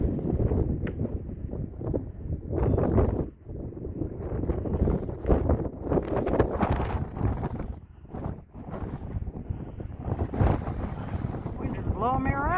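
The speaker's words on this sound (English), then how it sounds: "Wind is blowing me around up here." Strong wind buffeting the microphone on the open summit of Beauty Spot along the Appalachian Trail, a loud continuous roaring rumble that gusts and briefly drops, with someone talking throughout.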